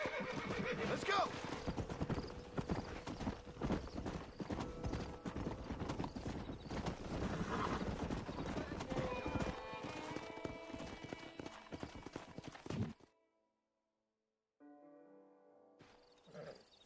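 Horses in Red Dead Redemption clip-clop steadily at close range and whinny over rustling game ambience. The sound cuts to silence near the end, then returns quieter with a tonal sound.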